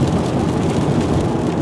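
Heavy rain from severe storms drums loudly and continuously on a 2019 Ford F-150 SuperCrew diesel pickup, a dense close roar with no voices.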